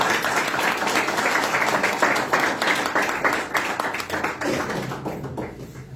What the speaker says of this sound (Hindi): हम तालियां बजाकर